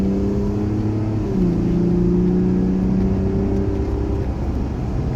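A Mazda CX-60 with a 3.3 litre turbo diesel pulls hard at full throttle, a steady droning engine note rising in pitch, easing briefly with a gear change, then climbing again under constant cabin noise.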